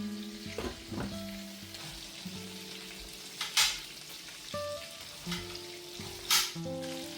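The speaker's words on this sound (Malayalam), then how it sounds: "അത് കോരി മാറ്റിയതിന് ശേഷം ഞാൻ അതിലേക്കൊരു ഹാഫ് ഒണിയനാണ് ഇട്ട് കൊടുക്കുന്നത്" Half an onion sizzles and crackles in hot oil left over from frying fish, a steady close frying hiss with occasional stirring clatter and utensil clinks.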